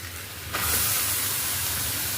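Dried dates are tossed into a pan of fresh turmeric frying for a turmeric halwa, and a sudden loud, steady hiss of sizzling starts about half a second in and carries on.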